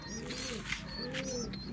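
Pigeons cooing softly in a loft, low rounded coos repeating under steady background noise, fairly faint and close.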